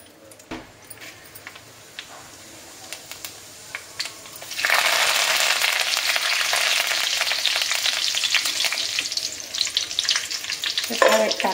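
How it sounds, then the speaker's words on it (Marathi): Tomato-onion paste with ginger, garlic and cumin frying for pav bhaji, starting after a few faint clinks and then sizzling loudly and steadily with stirring scrapes through the second half. "आता आपण ही पेस्ट परतून घेऊ"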